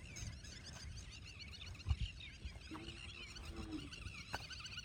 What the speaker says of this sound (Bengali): খুবই সুন্দর পাখি ডাকে এটা।